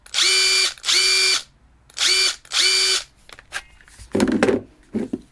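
A Makita cordless drill on a 14.4-volt battery drives screws in four short bursts, each ramping up and cutting off, followed by a few clattering knocks.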